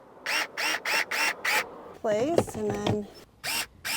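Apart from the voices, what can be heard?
Fanttik S1 Pro electric screwdriver driving screws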